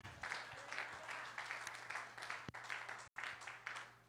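Church congregation applauding in rhythmic bursts, a faint, distant patter of clapping rising and falling in waves, with a brief dropout near the end.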